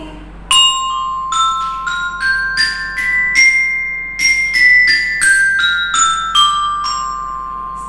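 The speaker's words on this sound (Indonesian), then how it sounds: "Ini namanya belira." A bell lyre plays a bright melody, metallic notes struck one after another at a steady pace, each ringing clearly with a short sustain.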